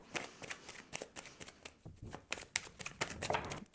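Tarot cards being shuffled by hand during a reading, giving a steady run of quick papery riffles and flicks close up, without speech over them.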